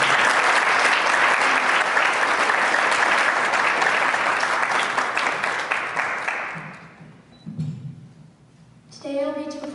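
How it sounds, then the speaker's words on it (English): Audience applause for a singing contestant at a Rotary music competition in Yucca Valley, dense sustained clapping for about six seconds before it fades out, followed by brief low voices and a short tonal sound. "Ladies and gentlemen, another round of applause, contestant number 7."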